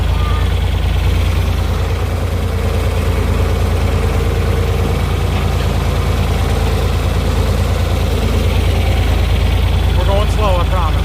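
A tractor engine idles and rumbles loudly and continuously on a muddy field, its deep steady drone filling the whole stretch while a person talks over it.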